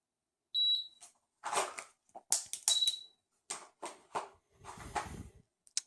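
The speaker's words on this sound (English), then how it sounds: "it's going to go beep, and it's going to show me a target" Two short electronic beeps ring out from a dry-fire training target, high and clean, between bursts of sharp clicks and clattering noises at close range.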